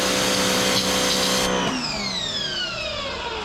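A Lidl Parkside pressure washer spraying water on a patio, pushing a watering can, gives a loud, continuous motor whine and spray hiss that shifts pitch partway through as the pump load changes, close and steady throughout.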